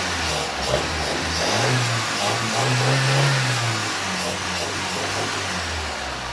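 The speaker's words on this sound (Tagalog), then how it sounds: "i-revolution natin yung ating makina. Malakas." A car engine with a rough idle runs loud and close, its pitch rising and falling as it revs up a few times over a steady idle, with the carburetor top opened.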